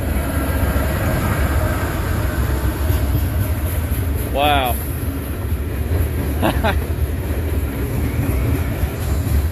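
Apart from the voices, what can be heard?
freight train with tanker cars passing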